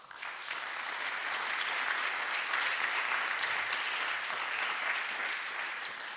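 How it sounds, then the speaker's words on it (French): Steady applause fills a municipal council installation meeting in Bondues after a council vote, sustained clapping from the assembled room at even loudness throughout with no talk over it. "Vous pouvez vous applaudir."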